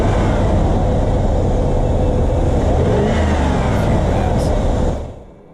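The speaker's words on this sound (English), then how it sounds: "I start the truck, give you an exterior shot just to hear it starting up" A 2004 Dodge Dakota LST Club Cab truck with 117k miles runs close by, its engine loud and steady with a brief rise and fall in revs midway before the sound drops off abruptly.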